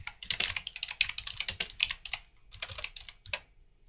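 Rapid typing on a computer keyboard, a dense run of clicky keystrokes with brief pauses, close and fairly quiet.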